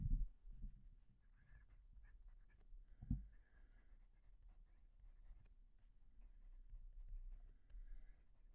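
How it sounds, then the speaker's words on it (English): A Laban 325 fountain pen nib scratches softly across paper with close-miked, quiet strokes and occasional small taps, continuous over several seconds with no talking. "You can hear it writing. There's definitely that sound coming through."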